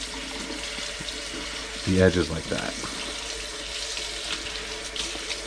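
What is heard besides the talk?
tap water running in sink, rinsing spinach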